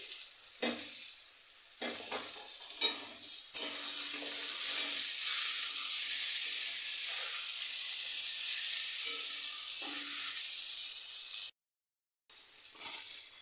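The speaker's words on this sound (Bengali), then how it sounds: "পেঁয়াজ টমেটো আর আলু একসাথে দিয়ে একটু ভাজা ভাজা করে নেব।" Onion, tomato and potato frying in hot oil give a loud, steady sizzle and hiss, broken by a few stirring knocks and a brief silent gap near the end.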